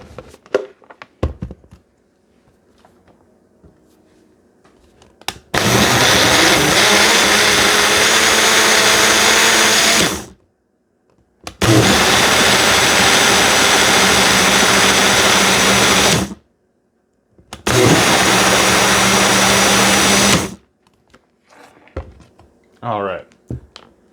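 Countertop blender spinning a green fruit and greens smoothie in three loud, sustained whirring runs separated by brief pauses, with quieter handling sounds before and after.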